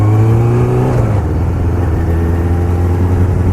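A Suzuki GSXF 600 motorcycle engine runs loudly and close, its pitch swinging up and then dropping to a steady, throaty drone as the throttle settles.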